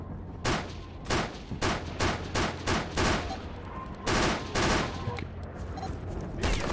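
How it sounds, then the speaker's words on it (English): Rapid bursts of video game gunfire aimed at the player, loud, close volleys repeating in quick succession for several seconds, with a few brief pauses between bursts. "They're already shooting us."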